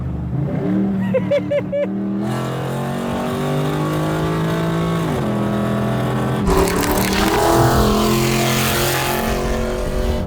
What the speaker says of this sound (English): It'll Rev match. Yeah. There it is. It loves the rev match.